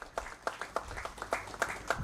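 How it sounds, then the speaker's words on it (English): Applause at a startup and innovation conference in India as a new governing body member is welcomed: a small group clapping in uneven, fairly sparse claps, moderately near and not very loud, with no talk. "Please welcome him, a big round of applause."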